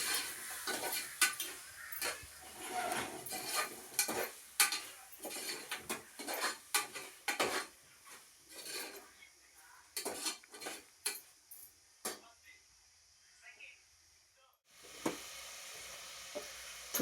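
Chopped tomato and curry leaves stirred in a sizzling frying pan for duck curry, with a spoon repeatedly scraping and clinking against the metal in irregular bursts over a steady, faint frying hiss.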